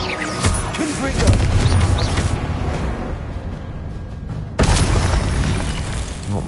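Repeated Confringo fire-spell blasts in the Hogwarts Legacy video game, loud booming bursts over a dense combat soundscape, with a sharp new blast near the end and voices mixed in.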